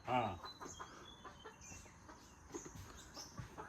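A rooster kept on a farm gives short, faint clucks amid quiet background noise, with one louder burst at the start and small scattered calls after.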